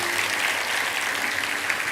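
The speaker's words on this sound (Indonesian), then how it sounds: "Yang percaya, berikan tepuk tangan untuk Tuhan." A church congregation at a worship service claps together in a full, steady burst of applause, loud and even across the short moment with hardly any voice above it.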